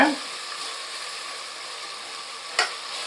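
Garlic paste sizzles steadily in a hot pan while a Vaniyambadi mutton biryani is cooked, a constant moderate hiss with one brief sharp crackle near the end.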